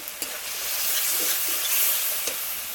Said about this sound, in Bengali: দিয়ে সামান্য একটু জল দিয়ে মশলাটা ভালো করে কষিয়ে নেবো।